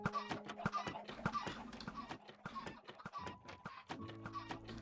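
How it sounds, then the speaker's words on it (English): A flock of chickens in the Minecraft video game clucks over and over, with short, quick clucks piling up among other faint game sounds. "So many chickens."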